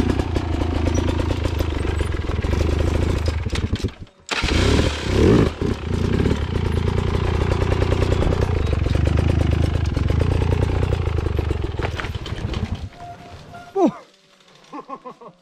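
Motorcycle rolling down a rocky trail on the Avandarocks enduro course, engine running loud and close with rough clatter and knocks from the rocks for most of the run, a short break near four seconds, then dropping to a quieter idle at the end.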